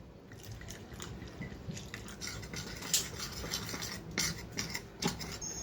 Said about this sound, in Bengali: বেসন আর কর্নফ্লাওয়ারটা গুলে নিয়েছি